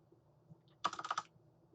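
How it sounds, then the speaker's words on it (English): Control F is pressed on a computer keyboard in a quiet room: a quick, faint cluster of a few key clicks, heard alone with no talk. "I press Control F on the keyboard"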